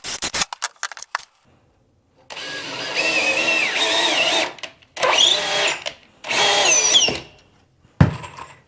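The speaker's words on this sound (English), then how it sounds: "Now we'll just screw them together. And I use 3-inch star drives for this." A power drill drives 3-inch star drive screws into wooden framing boards while repairing an inside corner: a few quick bursts at first, then three sustained whining runs that rise in pitch as each screw seats, close and loud.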